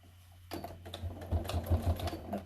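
A sewing machine stitching in free motion quilting with bobbin work: after a brief quiet start, rapid clattering runs of stitches in short uneven bursts, close and fairly loud.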